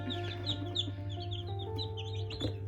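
Day-old chicks in a brooder pecking at chick crumb cheep in quick, high overlapping peeps over a constant low electrical hum, close and fairly busy throughout.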